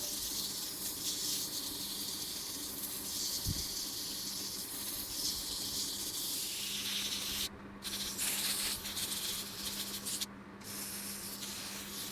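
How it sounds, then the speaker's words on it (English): Steady, coarse abrasive hiss of sanding a lathe-turned golf ball runs continuously, close by, with a slight change in texture partway through. "it's now time to start sanding"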